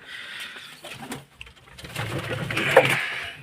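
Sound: pigeons cooing in coop

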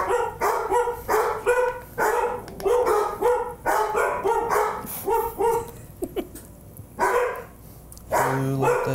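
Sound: dogs barking

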